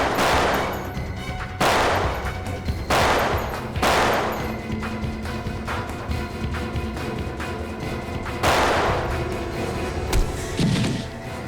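Gunfire in a shootout scene from a Hindi crime drama series: a rapid run of loud, close shots in irregular bursts, each crack trailing into a dense, noisy wash, with no voices.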